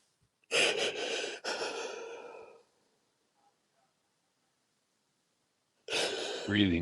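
A person takes two long, deep, audible breaths, close and fairly loud, separated by a silent pause, with another deep breath starting at the end.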